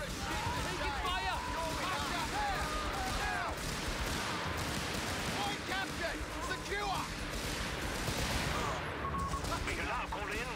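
Gunfire crackles in Company of Heroes 3 during a battle with attacking German troops, with rapid rifle and machine-gun bursts and distant blasts running continuously under shouted soldier voices and radio chatter.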